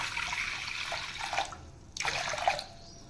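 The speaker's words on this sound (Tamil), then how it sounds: "கஞ்சிக்கு தகுந்த மாதிரி கால் லிட்டர் தண்ணி ஊற்றிக்கலாம்" Water poured into a cooking pot of lightly salted water for traditional rice porridge, a soft continuous splashing with a couple of brief louder gurgles, close by and without talk.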